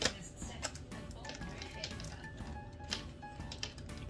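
Rapid tapping of a keyboard or phone keys, fairly quiet and close, with small irregular clicks running steadily over a faint background.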